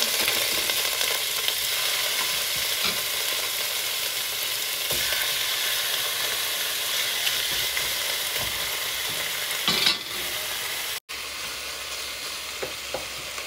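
Chicken pieces frying for tinola, a steady close sizzle and crackle of oil in a pan, constant throughout, with a brief clatter of stirring near the end and no talk.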